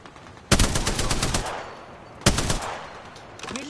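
Automatic gunfire in the video game Apex Legends comes in two loud, rapid bursts, each about a second long, with a short pause between them, close and sharp and heard without talking.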